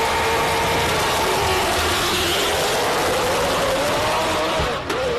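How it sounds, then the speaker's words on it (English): A highly modified Subaru race car at a hillclimb event roars with a sustained, very loud engine note, steady and close throughout with a rising whine and a brief dip near the end. "I mean that is insanely loud, that car"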